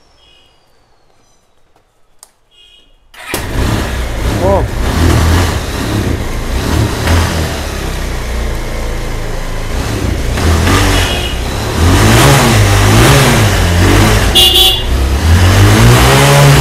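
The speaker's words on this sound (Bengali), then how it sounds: "একটু গাড়ি স্টার্ট দিয়ে সাউন্ডটা শুনিয়ে দেখিয়ে দিই।" A Bajaj Pulsar 220 motorcycle, BS4, fires up after a few quiet seconds, then runs loud and close, its engine revving repeatedly with rising and falling pitch, grows louder toward the end.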